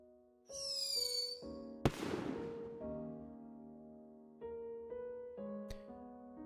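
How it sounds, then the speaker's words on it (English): Fireworks set off at a funeral in the video game Firework: one sharp, loud bang with a crackling burst, then a later smaller pop, over sustained musical tones and a whistling rise near the start. "According to the custom here, there will be fireworks at the funeral."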